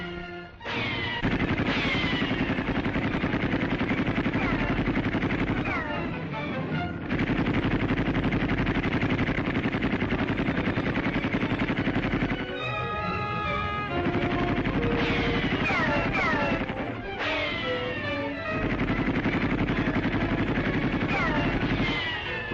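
A Second Sino-Japanese War machine gun nest fires repeated rapid bursts, loud and sustained, with short pauses between volleys over a constant hiss.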